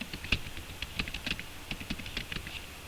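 Typing on a computer keyboard into a text file, with irregular light key clicks spread across a couple of seconds, close and moderately soft.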